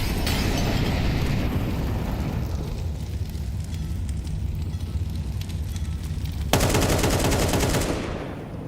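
Rapid gunfire, including wallbang shots through cover, rattles continuously in an esports shooter video game match, loud and dense, ending with a sharp burst near the end.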